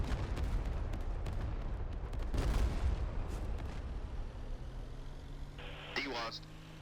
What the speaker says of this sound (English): employ unguided rockets from behind cover with indirect fire mode. We're now a hovering MLRS battery.